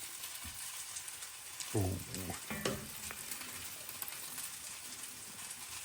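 Grilled cheese fries in mayonnaise in a pan with a soft, continuous sizzle, broken by a few brief louder crackles and a short exclamation from a person nearby.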